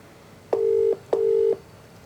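Telephone ringback tone on an outgoing call, two steady electronic tone bursts of under half a second each, spaced about half a second apart, clear and close against a quiet background.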